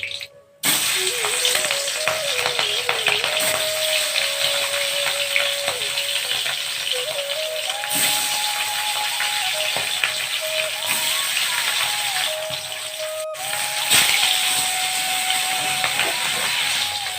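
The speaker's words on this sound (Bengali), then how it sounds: "এবার আমি মাছ ভেজে নেব, তাই তেল দিয়ে দিলাম।" Pieces of katla fish fry in hot oil in a wok with a loud, constant hiss and crackle, a few clanks cutting in now and then, and no talking.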